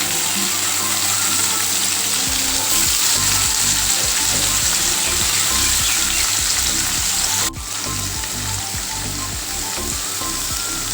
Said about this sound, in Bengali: এরপর আমি পনিরগুলোকে ভেজে নেব।